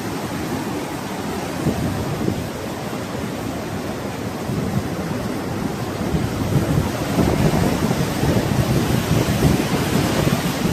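Rain pouring outdoors by the Mahanadi river, a steady dense hiss that fills the whole stretch and swells a little louder in the second half, with no voices.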